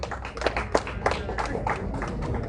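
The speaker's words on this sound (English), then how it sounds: "Let's appreciate these youngsters with a hand clap." Audience at a Ugandan NUP press event clapping for youngsters, a dense, steady patter of hand claps with a few sharper slaps, moderately loud and continuous throughout.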